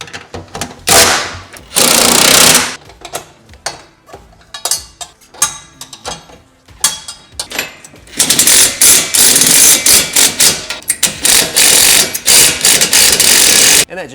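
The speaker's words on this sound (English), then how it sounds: "we're going to tighten down our 19mm nuts" Nuts being run down with a power tool on a 2021 Ford F-150 headache rack, loud buzzing bursts in two long stretches with shorter rattling pulses between, close up with no talk.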